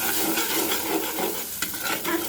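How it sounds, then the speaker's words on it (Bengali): Ground coriander, cumin, turmeric and chili powder being stirred and fried in a pan with little or no oil, giving a steady broadband sizzle with scraping stir strokes throughout, close and fairly loud, no voices. "এবার আমি মশলাটা একটু কষিয়ে নিই"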